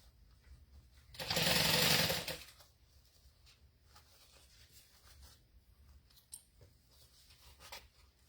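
Sewing machine stitching the side seams of a zippered bag at a half-inch allowance, one loud burst of about a second, then quiet with faint handling noises.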